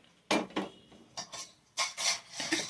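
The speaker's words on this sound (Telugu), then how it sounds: "స్టవ్ ఆన్ చేశాను, కుక్కర్ పెట్టుకున్నానండి." A pressure cooker set onto a kitchen stove, heard as several separate metallic clanks and scrapes of cookware, close and fairly loud, with quieter gaps between them.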